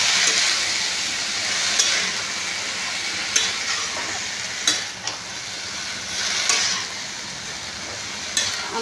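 Soft leafy greens frying in a pan, a steady broadband sizzle with intermittent scraping stirs every second or two, close and fairly loud, no voices.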